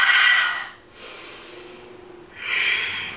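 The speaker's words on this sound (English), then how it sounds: "Continuing that ujjayi breathing, breathing in through the nose and out through the nose." Ujjayi breathing in and out through the nose during a home yoga session: two strong, hissing, throaty breaths close to the mic, separated by a quieter pause, with no talk.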